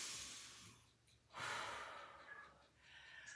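Soft, close breaths from a person during a floor stretching exercise, including one fuller airy exhale in the middle, all quiet with no talking.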